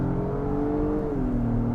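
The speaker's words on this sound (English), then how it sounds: "the engine definitely sounds augmented" A 2022 Acura MDX Type S engine in sport mode accelerating under load, with a steady, smooth augmented hum and a tone that steps down midway as it shifts, heard from inside the cabin without talk.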